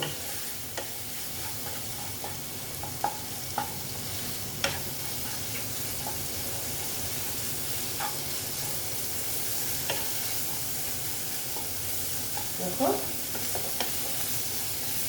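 Spiced moong dal with turmeric and salt being sautéed for kalia, a steady sizzle and fry under repeated scraping of a spoon against the pan, with occasional sharper clinks, fairly close and continuous.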